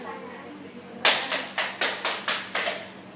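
A group mosquito-clap game in a classroom-style session: after a quiet pause, hands strike together in seven sharp, evenly spaced claps, loud and close, as though everyone is clapping in unison.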